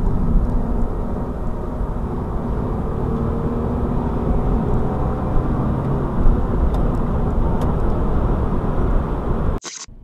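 A car accelerating hard past a truck on a motorway on-ramp, its engine a loud, sustained drone that holds steady for the full stretch before cutting off abruptly at the very end, with no talking.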